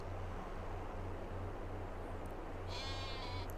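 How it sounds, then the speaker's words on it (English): Sheep in Farming Simulator 22 bleat faintly over a steady low hum of ambient farm noise on a grass field, a short call rising near the end of a calm stretch. "Grass field looks alive with all the sheep out there."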